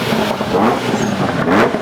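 A Ferrari F40 at a car meet arrives with a loud, close engine note that rises and revs over about two seconds, with no talking.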